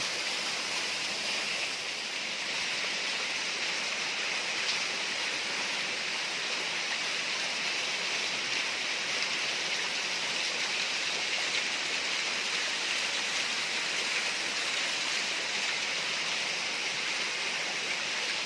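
The tallest waterfall on a stream, a loud, steady rush of falling and flowing water that continues without change throughout, with no voices.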